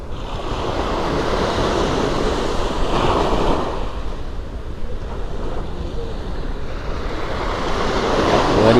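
Ocean waves wash steadily at the seashore, a continuous broad surf roar with wind buffeting the microphone, swelling slightly around the middle and end, with no one talking.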